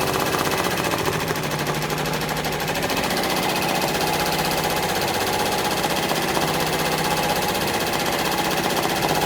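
Embroidery machine stitching an OESD freestanding pumpkin quilt block, a loud, continuous rapid needle rattle and motor hum with no pauses, close up and alone.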